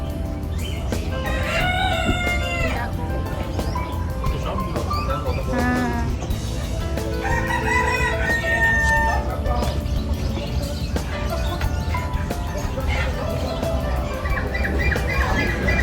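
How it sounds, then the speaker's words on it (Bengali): Several fighting roosters crow and cluck in a busy, continuous din at a livestock market in Sharjah, with a person speaking briefly among the birds. "ফাইটিং মোরগ। এগুলো দিয়ে না লড়াই করানো হয়।"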